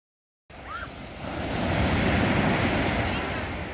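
Ocean surf rolls in at a beach, a steady broad wash of breaking waves that swells after a brief silent start, with some wind rumble on the microphone.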